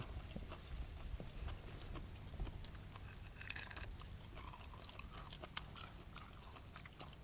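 Quiet, close crunching of food being chewed, irregular crisp bites and snaps over a low background hum.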